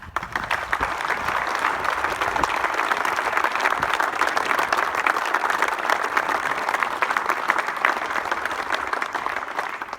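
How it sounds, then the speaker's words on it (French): A crowd applauds at a Bastille Day address by a prefect in Morbihan, a continuous, even roar of many hands clapping from some distance, sustained for the full length. "Applaudissons-les."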